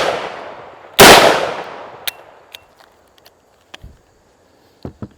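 A single sharp, loud shotgun blast rings out outdoors with a long decaying echo, followed by scattered small clicks and knocks in otherwise quiet surroundings.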